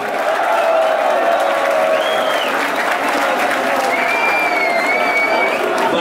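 A crowd at a Brazilian rap battle between MCs cheers and applauds loudly, dense continuous clapping with whistles and shouts throughout.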